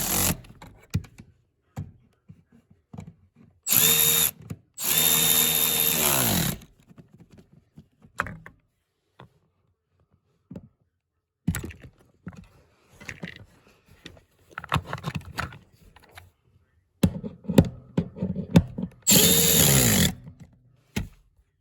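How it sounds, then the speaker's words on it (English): A power tool tightens fasteners during a power seat install in a 1981-1987 Buick Grand National or T-Type. It comes in a few short, close whirring bursts, separated by stretches of quieter clicking and handling sounds. "let's cinch down the fasteners"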